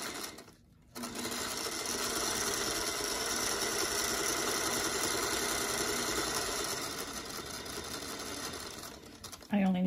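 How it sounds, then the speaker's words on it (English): A sewing machine chain-pieces quilt fabric in one long, steady run of rapid stitching. It pauses briefly near the start, then hums on at moderate volume, and a voice comes in at the very end. "So normally I'm just chain piecing these"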